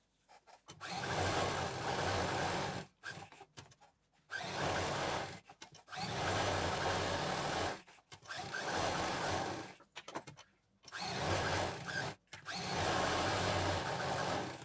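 A sewing machine stitches a fabric piece down on all four sides, running in loud, steady motor bursts of one to two seconds, broken by short pauses as the cloth is turned.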